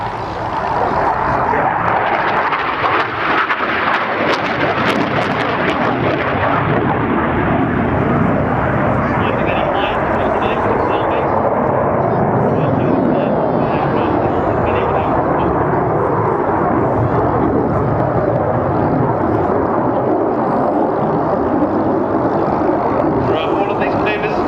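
A display aircraft at the 2005 RAF Cosford Air Show climbs into a 6G turn, its engine roaring loud and sustained with a shifting, rising tone over the whole stretch.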